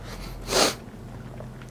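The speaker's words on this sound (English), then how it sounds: "Forgive me of the sniffles. I got the sniffles." A single short nasal sniff from a person with a cold, a quick breathy burst in an otherwise quiet room.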